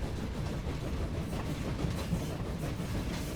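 Rolling clickety-clack of a train running along the tracks in the video game Train Valley, a steady moderate rumble with no voices over it.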